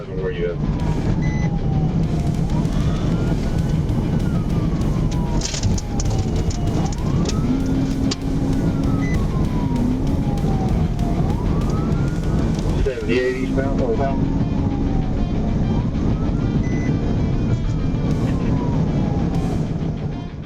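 A police car siren wails in repeated rising and falling sweeps during a high-speed pursuit. Heavy engine and wind noise run underneath, and a narrator speaks over it throughout.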